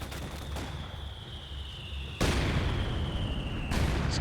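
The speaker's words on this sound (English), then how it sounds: "Max has a mortar set up here to start pounding the center here." Mortar and artillery shelling in a Company of Heroes 2 city battle, a loud sharp blast near the middle over steady rumbling combat noise, with another impact near the end.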